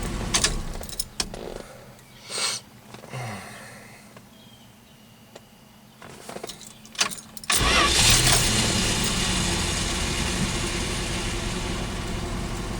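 Keys jangle and a few clicks, then a Plymouth 318 V8 cranks and catches after carburetor repair, settling into a steady, loud idle that runs on to the end.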